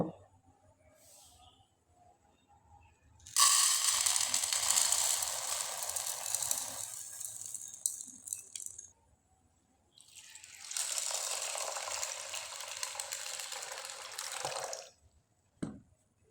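Chana dal lentils being washed in water, with two long bursts of running tap water and sloshing separated by quieter clinks and handling, close by.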